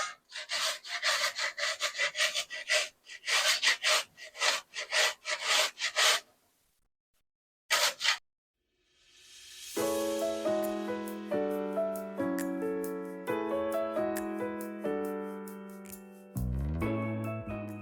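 A zucchini is rubbed in quick, rhythmic rasping strokes across the fine side of a grater, close and loud, before the scraping stops and music takes over.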